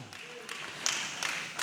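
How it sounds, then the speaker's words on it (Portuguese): A church congregation clapping hands in a steady, rhythmic beat during a service, faint and somewhat distant, with roughly even claps spaced about a third of a second apart. "Se assente e glorifique a Deus com as palmas bem alegre"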